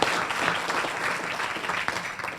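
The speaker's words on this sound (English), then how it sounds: "Please give her a round of applause." Audience applause welcomes a college president to the stage at a public policy forum, steady close clapping from a modest crowd with a few louder individual claps.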